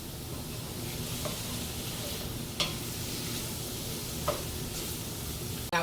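Vegetables for seafood paella sizzle steadily in a hot pan, a constant close frying hiss with a few faint stirring scrapes and clinks of a utensil.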